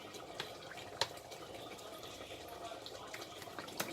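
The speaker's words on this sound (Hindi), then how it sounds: "इसमें मैं तेल डालूंगा तकरीबन 150 ग्राम।" Oil, about 150 grams, being poured into a wok, a faint liquid trickle with soft splashes and a few small clinks.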